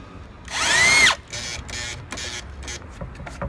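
A power drill whirs up in one sustained burst, winding down to a stop, followed by a few short, softer spins and clicks nearby.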